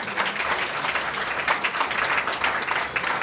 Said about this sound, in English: I think that deserves some hand clapping in here